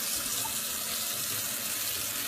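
A kettle is filled from a tap, giving a continuous close rushing hiss of running water, loud and steady for the whole stretch.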